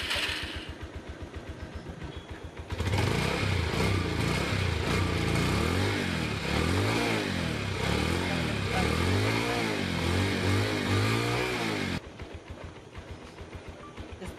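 A DIY smart motorcycle's engine starts on a spoken command and runs loudly nearby for several seconds with rhythmic revving surges, then cuts off abruptly, with a voice heard before and after.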